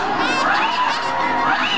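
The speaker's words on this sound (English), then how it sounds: "how about another round of applause for a sea lion brand?" A crowd of children and adults at a sea lion show claps and cheers loudly and continuously, a dense wash of shouting voices with no let-up.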